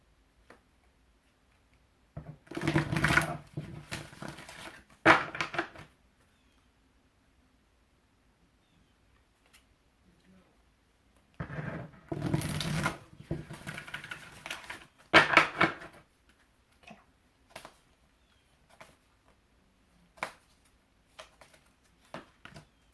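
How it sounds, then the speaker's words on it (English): Two bursts of rapid riffling card shuffling, each lasting a few seconds, with scattered small taps and clicks between them in a quiet room. "I shuffled the deck. You heard me shuffle the deck, right?"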